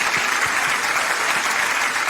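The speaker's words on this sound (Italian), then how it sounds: "Facciamo un applauso per Sebbi Morace." A radio show audience claps to welcome an artist on stage, producing a short, sustained burst of dense applause that stays even throughout, with no talking over it.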